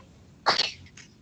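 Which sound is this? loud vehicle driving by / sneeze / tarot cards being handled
sneeze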